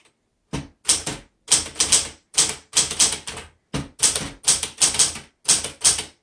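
A 1970s Smith Corona Galaxie Twelve manual typewriter clacks through bursts of rapid keystrokes, close and crisp, in uneven groups separated by short pauses, with no talking.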